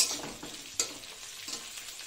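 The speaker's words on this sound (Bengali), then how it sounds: "কালো জিরা ফোড়ন দিয়ে এই যে পেঁয়াজটা ভাজছি" Sliced onion frying in oil tempered with nigella seeds gives a close, steady sizzle, with a spatula scraping and stirring and one sharp clack partway through, no voices.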